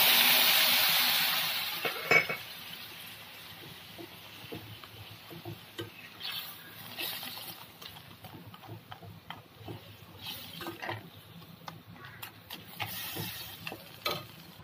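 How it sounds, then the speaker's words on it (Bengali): Water poured into a pan of frying mango pickle sets off a loud, bright hiss that fades over about two seconds. Quieter, irregular scraping and clinking of stirring follows, with soft bubbling underneath. "তো এর মধ্যে আমি 1 কাপ মতো জল দিয়ে দিচ্ছি হালকা করে।"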